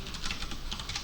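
Typing on a computer keyboard, a steady run of quick, light key clicks at close range with no voices.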